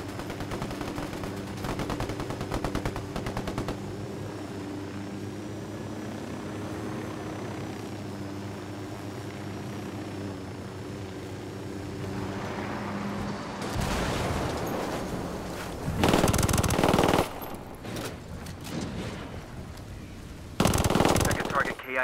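Rebels fire weapons in the Ghost Recon Wildlands video game, with bursts of automatic gunfire standing out over a steady engine hum, the loudest volleys coming in short clusters near the end.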